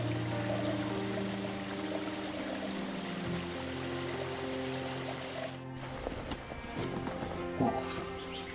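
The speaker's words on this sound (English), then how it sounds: "Just the sounds of trickling water and chirping birds." A stream trickles steadily on a quiet morning in elk country, a soft continuous water sound with faint birds chirping in the background and a brief disturbance near the end.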